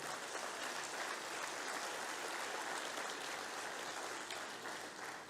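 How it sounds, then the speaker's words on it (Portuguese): A church congregation claps during a communion service, a steady, full wash of applause filling the room evenly from start to finish. "Dê um aplauso ao Senhor, amém?"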